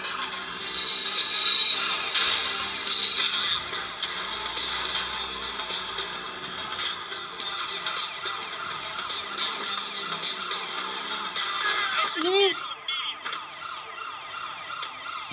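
Wailing sirens from police cars in GTA 1 sound continuously over a busy electronic soundscape, with a sweeping tone near the end.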